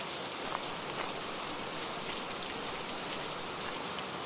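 Steady, even rain falls in a dense, close hiss of drops with no breaks, heard alone.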